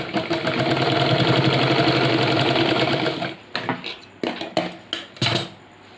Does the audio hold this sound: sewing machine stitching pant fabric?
yes